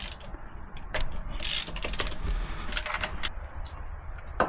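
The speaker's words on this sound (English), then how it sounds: "Get your 5/8 spark plug socket and an extension, and you can go ahead and take these spark plugs out." Ratchet turning a 5/8 spark plug socket on an extension while removing plugs from a 1.9L Yamaha Waverunner engine, a close run of quick clicking pawl strokes in short bursts, quiet and alone.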